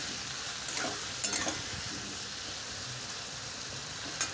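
Ground spice mix of ginger, chilli, cumin, coriander and turmeric frying in a pan for a potato and pointed gourd dish, a soft continuous sizzle with a few stirring clatters, close but quiet.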